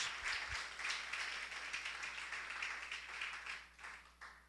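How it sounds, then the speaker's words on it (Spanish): A church congregation clapping in a Spanish-language worship service, a fairly faint, steady wash of applause lasting several seconds before tapering off. "Demos una fuerte ofrenda de aplauso al Padre, al Hijo y al Espíritu Santo de Dios"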